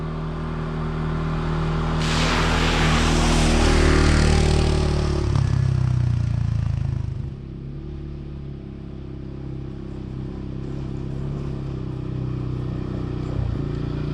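Truck or quad engine driving slowly along a wooded trail, a loud continuous rumble that swells and revs in the first half, then settles to a lower steady drone, with no talk.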